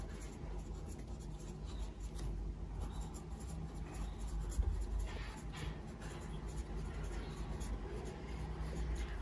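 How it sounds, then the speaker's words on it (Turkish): A pen scratches across paper in quick, close strokes with short pauses, quiet and continuous under a faint low background hum. "Ortalama soru sayıları yazacağım."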